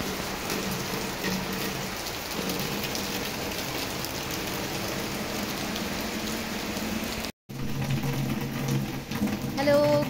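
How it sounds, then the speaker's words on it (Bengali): Heavy rain falls continuously and close, a dense steady hiss with drips, briefly cutting out before resuming; no clear thunder stands out. "আর এদিকে দেখো বৃষ্টি, যে সেই সকাল থেকে বৃষ্টি, কোনো থামাথামি নাই বৃষ্টির।"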